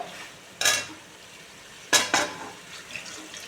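Spoon stirring drumstick and mustard curry in a pan: quiet background with three distinct scraping clatters, one early and a close pair near the end, no voices.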